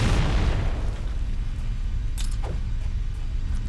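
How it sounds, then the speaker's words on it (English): A grenade blast in the video game Halo opens with a loud, booming burst that trails off into rumbling game noise, followed by a couple of faint sharp cracks. "I threw a grenade at it."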